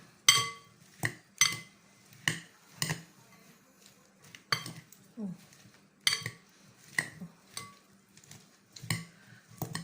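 Cucumbers and tomatoes are tossed with lemon juice in a bowl, a utensil knocking and clinking against the bowl in a string of sharp, irregular strikes with quiet gaps between, close and fairly loud, with occasional speech.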